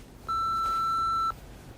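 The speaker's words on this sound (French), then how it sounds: "Dites ce que vous voulez après le bip." A single clean electronic answering-machine beep holds a steady pitch for about a second, then stops abruptly, with faint room noise around it.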